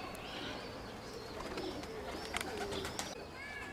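Young pigeons being trained to fly give faint, distant cooing and soft chirps against a quiet outdoor background, with no talking.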